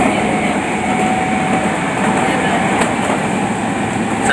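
Steady rumble and hiss inside a crowded Japanese train, continuous and fairly loud, with faint murmuring passengers and occasional metallic clicks.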